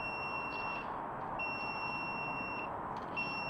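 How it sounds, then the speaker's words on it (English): A voltage detector held to a hot wire at a household receptacle gives off a shrill, steady electronic beep in repeated pulses over a constant background hiss. "I'm using my voltage detector"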